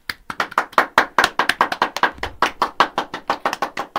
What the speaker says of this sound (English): on the count of three, you're going to clap.